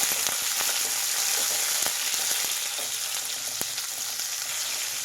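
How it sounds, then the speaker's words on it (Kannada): Long strips of a large capsicum frying in hot oil, giving a loud, constant crackling sizzle with occasional sharp pops and light spatula taps, no voices. "ಎಣ್ಣೆ ಬಿಸಿಯಾಗಿದೆ. ಕ್ಯಾಪ್ಸಿಕಮ್ ತೊಗೊಂಡಿದ್ದೀನಿ, ಒಂದು ದಪ್ಪ ಸೈಜಿಂದು. ನೋಡಿ, ಈ ರೀತಿ ಉದ್ದುದ್ದು ಕಟ್ ಮಾಡಿದ್ದೀನಿ. ವಾಶ್ ಮಾಡಿಬಿಟ್ಟು ಅದನ್ನು ಸ್ವಲ್ಪ ಫ್ರೈ ಮಾಡಬೇಕು"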